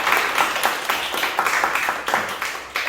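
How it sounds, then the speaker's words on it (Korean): An audience at a hospital health talk show for cancer patients claps to welcome a guest, with close, fairly loud hand claps in a quick, uneven rhythm and no talking. "박수와 함께"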